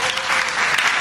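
Audience applause during an Indonesian stand-up comedy talk, a dense, steady wash of clapping that carries at an even level through the whole short stretch.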